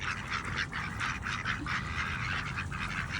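Ducks and geese at a park give a busy chorus of repeated honks and quacks over steady outdoor background noise, close by and continuous.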